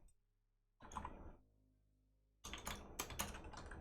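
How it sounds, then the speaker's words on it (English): Typing on a mechanical keyboard fitted with Kailh Box Navy or Box Jade clicky switches, a short burst of keystrokes, a pause, then a faster run of crisp, sharp clicks close to the microphone. "Quitsmoking Kek says, I believe those keys on the 2 key are either Kali Box Navies or Box Jades."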